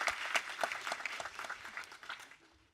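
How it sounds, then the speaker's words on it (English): A convocation audience at the Asia School of Business claps for award winners, a dense round of applause with distinct nearby claps that thins and fades out by the end. "Let's give them another round of applause."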